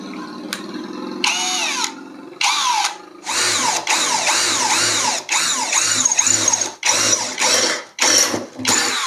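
An Imax cordless drill whines and bites into 1.5 mm thick steel box tubing in repeated bursts, loud and close, with brief pauses and pitch drops as it labors.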